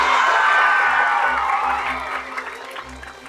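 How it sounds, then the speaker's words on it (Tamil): An audience at a Tamil motivational talk applauds with a few cheers and whoops, loud at first and then gradually thinning and fading out. "நல்ல கைத்தட்டல் தான், நல்ல கைத்தட்டல்."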